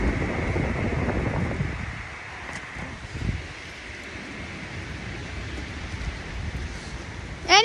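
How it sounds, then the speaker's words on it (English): Wind gusts buffeting the microphone outdoors, a rumbling, rushing roar that is strongest at the start and then settles into a steadier, fainter whoosh, with no talking. "It's getting very windy."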